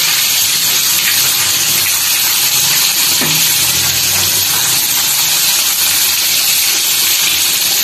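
Cubed bitter gourd pieces frying in a pan, a loud continuous hissing sizzle with a watery, steamy texture that holds steady throughout, close up and with no talk.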